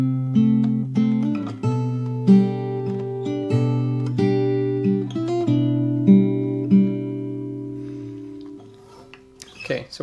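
A fingerstyle acoustic guitar picks out the next section of a piece up close, sustained low bass notes beneath a plucked melody in a calm, even rhythm, ending with a brief handling noise.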